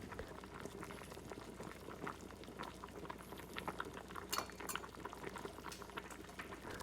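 A pot of winter melon, corn kernel and pork bone soup at a steady, gentle boil, with continuous soft bubbling and faint occasional clinks, quiet and close.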